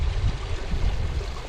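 Creek water rushes steadily at a trail crossing on the West Fork of Oak Creek in Sedona, Arizona, a close, continuous broadband wash with no voices.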